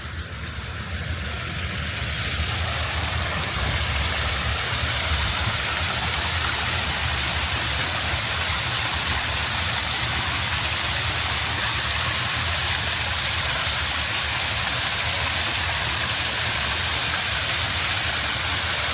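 Small waterfall splashing beside a hotel pool, a steady broadband rush of falling water that holds loud and even throughout, with no voices over it.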